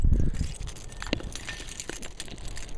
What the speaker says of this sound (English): I have too many keys.